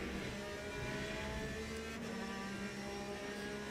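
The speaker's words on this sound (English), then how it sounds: "I do really like the sound of the Aston, compared to the Porsche at least. Much nicer sounding engine." An Aston Martin GTE race car engine in the Le Mans Ultimate racing game, a steady, dense, high-revving drone that holds at constant loudness throughout, with no voices.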